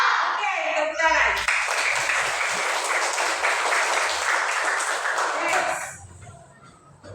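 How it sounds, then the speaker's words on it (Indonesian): A class of primary school children claps and applauds together in a classroom during a maths lesson, a dense burst of clapping that runs for several seconds before fading out, with a teacher's voice heard before and after it. "Oke, tepuk tangan."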